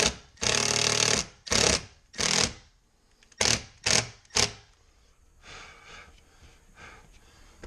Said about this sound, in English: So what I'm doing is I'm piloting a couple of holes